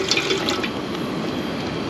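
Water poured into the bottom of a metal mess kit, a steady close splashing trickle that runs continuously, slightly brighter at the start, with no talk.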